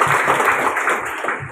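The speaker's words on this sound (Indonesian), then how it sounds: "Tepuk tangan buat kita semua" A group audience claps together at a food-handler training session, a brief burst of steady, dense applause close by with no talk over it.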